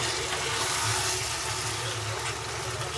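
Half a cup of water poured into cooking capsicum beef qeemah, a steady dense hiss and splash of liquid continuing at an even, fairly loud level throughout, with no talking.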